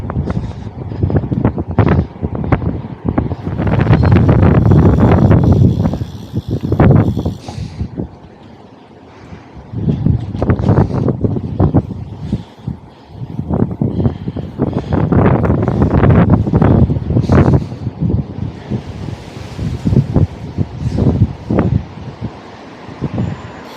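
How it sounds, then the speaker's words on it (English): Strong, gusty wind buffeting the microphone while cycling on a blustery, wet day, loud rumbling surges that rise and fall over the whole stretch with no talk. "it's just really, really blustery and a bit wet as well."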